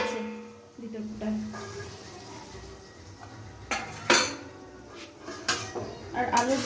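Potato curry (aloo dum) being stirred in a pot, with clinks and scrapes of a metal spoon against the vessel and a sharp knock or two near the end, over a faint background hum and soft voices.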